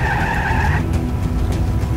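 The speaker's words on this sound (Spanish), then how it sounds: "Uy, qué buen freno de manos." A car skids under a handbrake turn in the action game Just Cause 3, giving a loud close tire squeal for under a second that gives way to engine and road rumble.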